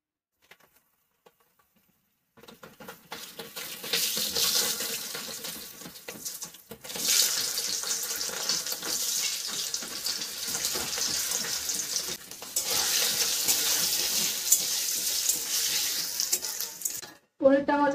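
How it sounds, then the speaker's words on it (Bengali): Two hundred grams of paneer fry in hot oil with a spoonful of ghee. A quiet pause gives way to loud, steady sizzling and crackling that continues for well over ten seconds, with brief stirring breaks. "এবার আমি পনিরগুলো ভেজে নেব"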